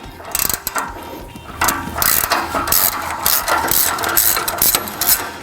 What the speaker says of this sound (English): Start by loosening the clamp on the exhaust directly above the rear axle.